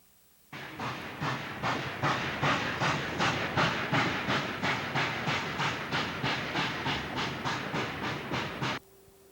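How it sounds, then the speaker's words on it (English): A Canadian National steam locomotive, number 6185, chuffs steadily in quick, even exhaust beats while starting a heavy freight train in Ontario in 1959, loud and close, with no voices. "Let's listen to 6185 as she tries to get a grip on her freight train"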